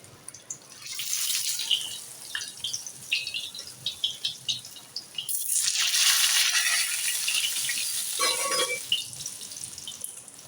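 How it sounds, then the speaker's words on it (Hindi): Shami kebabs sizzle and crackle inside a sandwich maker, bursts of frying spatter rising and falling with a louder, steadier hiss in the middle, close and alone without talk. "ये देखें जी, हमारे शामी कबाब फ्राई हो रहे हैं।"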